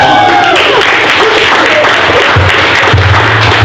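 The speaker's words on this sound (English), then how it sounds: "Let's give him a round of applause." Loud, close applause from the audience at a sales meeting, with a dense clatter of clapping mixed with voices and a few thumps throughout.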